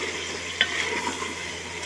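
Garam masala with chili and tomatoes is stirred and fried in a pan: a soft sizzle under a couple of brief scraping spoon strokes, quiet and close, with no talk.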